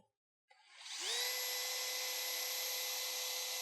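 A DeWalt cordless drill spins up with an 8 mm bit and bores into wood, a motor whine rising in pitch to a steady loud drone that holds without a break.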